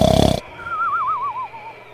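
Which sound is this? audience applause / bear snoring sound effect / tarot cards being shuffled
bear snoring sound effect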